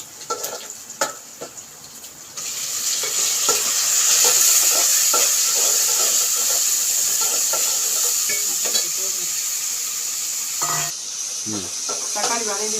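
Tomatoes sizzle and fry steadily in a pan, a broad loud hiss building after a few seconds, with repeated scraping stirs throughout and a few utensil taps near the end.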